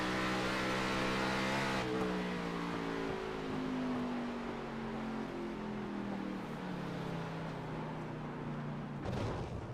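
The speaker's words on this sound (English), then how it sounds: "You can hear the rapid downshift trying to get it out" A stock car in a racing video game at Dover drops through the gears, its engine pitch stepping down in a falling sweep, then a sharp burst near the end.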